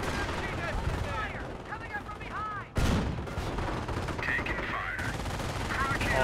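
Dense battlefield gunfire from the Company of Heroes strategy game, with rapid overlapping shots, a sharp louder blast near the middle, and a steady din of combat throughout, with voices mixed in.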